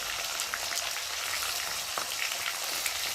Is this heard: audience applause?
no